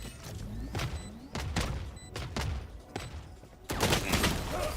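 Volley of missiles launched in a VR video game, a series of sharp thumping bursts roughly every half second, ending in a louder sustained rushing blast.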